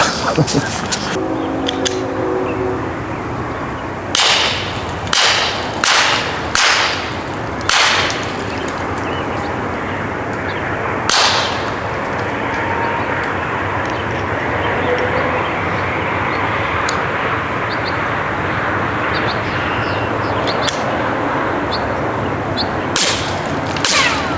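Unsuppressed gunshots from another shooter at an outdoor firing range ring out as sharp, loud cracks, a quick run of about five shots followed by a few scattered single reports, with a steady background hiss between them.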